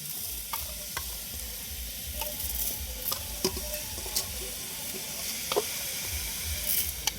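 Washed rice and dal go into a hot, sizzling pot during village-style cooking, making a steady frying hiss with scattered clicks and scrapes of stirring. No one speaks.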